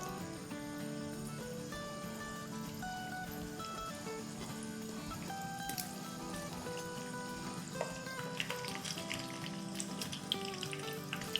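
Pizza pockets frying in oil until golden underneath: a steady, soft crackling sizzle with scattered pops, continuous and fairly quiet, growing a little busier toward the end.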